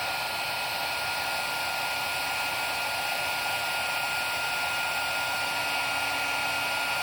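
Heat tool blowing steadily to melt Distress Embossing Glaze powder, a continuous loud whirring hiss with no pauses and no talk.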